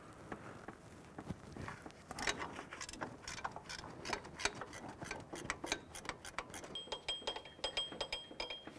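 A 12mm gear wrench ratchets in quick, repeated metallic clicks while loosening the lower pivot bolt on a 2001–2005 Honda Civic, close and fairly quiet, with bursts of clicking and brief pauses between strokes.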